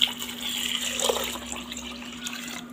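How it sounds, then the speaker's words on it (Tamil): Water pours steadily into a bowl of washed rice and fenugreek set to soak, a continuous close splashing rush with a faint hum underneath and a slight tail-off at the end. "இப்போ தேவையான அளவுக்கு தண்ணி சேர்த்துக்கலாம்."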